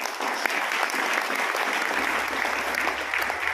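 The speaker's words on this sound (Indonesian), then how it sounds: "beri tepuk tangan untuk Pak Anton Musa" An audience at a business success-story gathering breaks into sustained, even clapping for a guest, a dense wash of applause holding steady throughout with a low hum entering partway.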